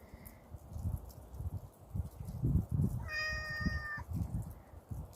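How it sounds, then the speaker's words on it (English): A cat gives one clear, close meow lasting about a second, over a background of muffled thuds and rustling hoofbeat-like sounds outdoors. "do you have to meow in every clip?"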